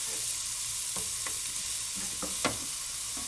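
Steady, dense sizzling of vegetables frying in a pan for spaghetti bolognaise, with occasional soft scrapes and knocks of a utensil stirring through it.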